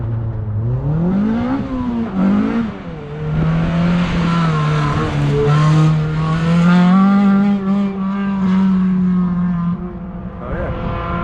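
A K-swapped Honda EF race car engine revs hard and climbs through gears, a loud raspy high-revving roar close by with brief dips between shifts.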